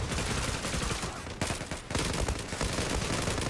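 A loud, violent burst of automatic gunfire rattles on almost continuously in the Zula shooter, close and harsh, with only a brief dip in the middle.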